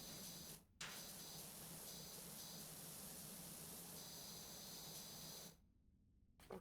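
A pressure washer in PowerWash Simulator sprays in a steady, dense, loud hiss that runs unbroken for several seconds, cut off by short pauses at the start and end, with no talk.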